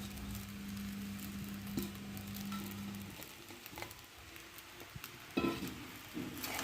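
Sago pearls (sabudana) are tipped into a pan of sabudana khichdi and stirred: a low steady sizzle with soft granular patter and scraping. A faint hum sits under the first half.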